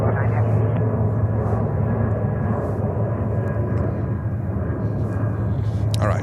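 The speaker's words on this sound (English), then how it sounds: "Let's film a takeoff." Steady broadband roar of a Delta Boeing 737 jet engine at JFK airport in New York, a continuous loud rumble with a low hum, holding level throughout with no clear rise.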